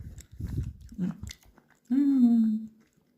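Crunchy bites of preserved zucchini, jarred with a little ketchup, give a few close, wet chewing crunches, followed by a short voiced sound.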